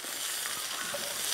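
Onion, garlic and chiles frying in a pan for a salsa, a loud, close, continuous sizzle with a faint stirring texture underneath.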